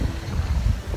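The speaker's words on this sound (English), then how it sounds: "Very windy here as well, because we're right by the water." Strong wind by the water buffets the microphone in a continuous low rumble, with a broad rushing noise and no voices.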